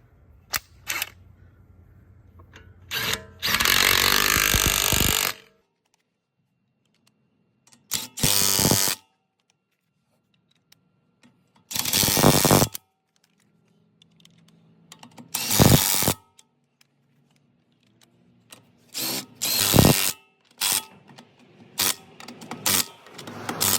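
An impact wrench or power ratchet runs on a car's rear wheel lug nuts in a star pattern, giving several separate loud mechanical whirring bursts of one to two seconds with quiet gaps between them, and no talking.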